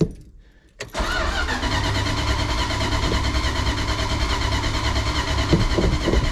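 A car engine catches after the gas pedal is pumped: a brief quiet start, then a sudden ignition that settles into a loud, steady running rumble close by, with no talk over it.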